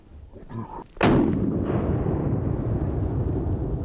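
A Winchester SX semi-automatic rifle fires a single loud, sharp shot during a wild boar drive hunt in a French forest, its report booming and rolling away in a long echo through the trees.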